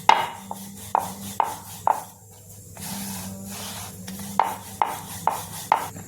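Paratha dough for laccha paratha is rolled out with a rolling pin on a board, giving a series of regular light knocks and rubbing sweeps in a steady rhythm, with a brief pause midway.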